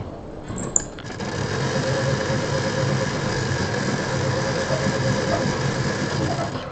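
A home sewing machine stitching fabric along a drawn leaf outline, a steady close whirring hum that starts after a brief click and runs continuously at an even speed, with no talking.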